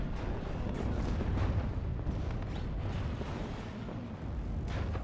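Weapons fire in WARNO aimed at a T-80 tank, a dense continuous rumble of blasts and booms, loud and sustained with a few sharper cracks layered through it.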